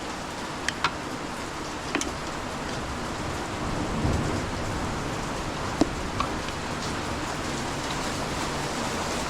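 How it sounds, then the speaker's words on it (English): Rain and hail fall during a storm, a steady dense hiss with scattered sharp ticks and pings of hailstones striking nearby surfaces, and a low swell of distant thunder rolling in midway; no one speaks. "We got some hail going on, people."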